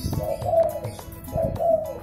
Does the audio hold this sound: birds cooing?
yes